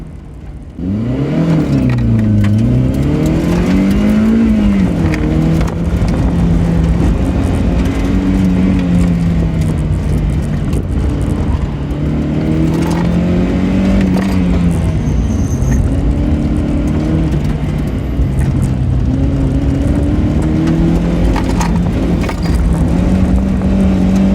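A Toyota MR2 Spyder runs a street autocross course in an engine note heard from inside the car, loud and continuous, rising and falling with throttle and shifts for the whole run.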